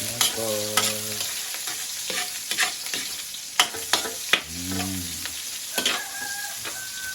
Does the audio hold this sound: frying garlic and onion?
yes